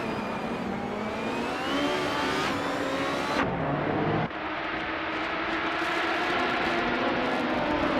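2014 Dallara GP2/11 race cars in a racing video game, engines droning loud and steady with rising pitch sweeps as cars accelerate and pass, one sharp gear-change dip partway through.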